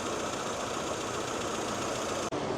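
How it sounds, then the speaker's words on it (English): Ambassador car engine with a tuned Mikuni carburetor running at a smooth, steady idle, a close, even mechanical hum with a brief cutout near the end. "this is a very healthy engine and it has been tuned perfectly"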